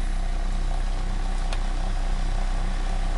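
A flux gate generator with two ring magnets and a long coil runs at its top speed, giving a steady, constant mechanical hum with a low drone and no change in pace.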